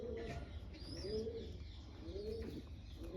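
Pigeons cooing in repeated low, rolling calls close by, with faint chirps from other birds and a steady background hum.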